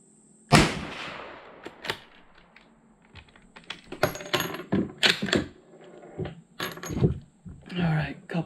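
Sharp reports from a .350 Legend Mossberg Patriot rifle at a target range: several separate shots, one loud crack early and more spaced shots later, with someone talking between them.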